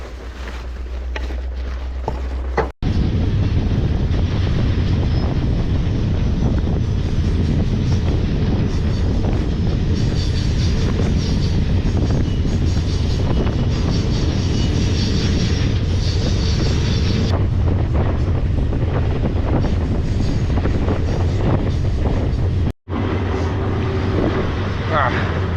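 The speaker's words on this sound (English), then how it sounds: "the train is about to move again" A train rolls through the African desert, a loud continuous rumble and clatter of cars close by, with wind noise and a voice speaking over it.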